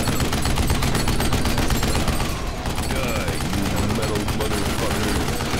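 Sustained gunfire from a player's weapon in Duke Nukem Forever, a dense, continuous rattle of rapid shots running loud throughout, with game voices and effects mixed in.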